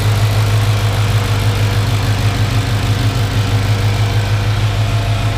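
A swapped-in Ford Coyote V8 running on its first start, a loud, close, steady idle with a deep, even rumble and constant vibration throughout, no voices.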